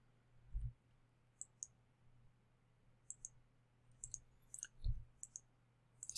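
Computer mouse clicks while working in Adobe Illustrator, a handful of faint, sharp, close clicks spaced irregularly over quiet room tone, with no voices.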